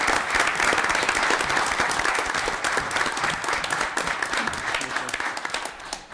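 An audience at a council meeting breaks into sustained applause, a dense even patter of many hands clapping that holds steady throughout and eases slightly at the end.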